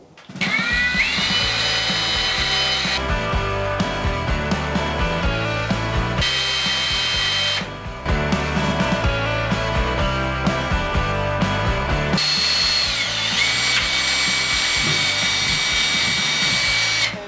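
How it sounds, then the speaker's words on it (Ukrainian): A Tekhmann cordless drill drives a 1.5 mm bit into metal, its loud high-pitched motor whine running in long sustained bursts with two short pauses and shifts in pitch, close and without talk. "Ми зараз перевіримо в тесті, як він буде сверлити в металі, чи буде патрон тримати це сверло."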